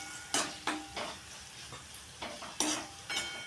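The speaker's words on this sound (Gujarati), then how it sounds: "હવે એને આપણે હલાવી નાખી." A spoon scrapes and stirs coriander-cumin powder through radarudi greens cooking in a pan, with about eight close, rhythmic strokes over a soft sizzle and no talking.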